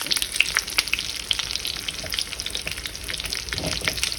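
Pike in a batter of sour cream, flour and water frying in a pan, a close, continuous hiss and crackle with dense popping spatters throughout and no talking.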